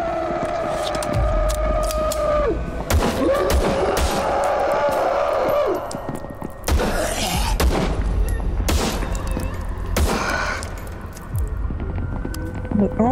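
Rapid gunfire from shooting at swarming enemies in the video game VLADiK BRUTAL, with dense bursts of shots and crashing impacts running continuously over loud game noise and music.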